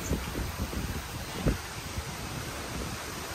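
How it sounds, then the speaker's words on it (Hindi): Outdoor wind over the water near a resort in Aruba: steady, moderate gusty rushing with soft rustling bursts and microphone buffeting, with no speech. "हवा सही चल रही है, हवा बहुत अच्छी आ रही है।"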